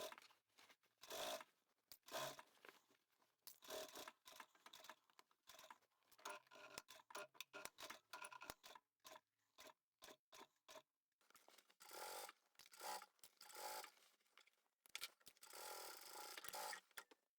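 An industrial sewing machine hems jeans with no hump jumper, running in short fast bursts of stitching separated by pauses, loud and close.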